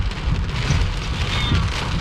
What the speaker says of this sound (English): the rain is so thick you can hardly see anything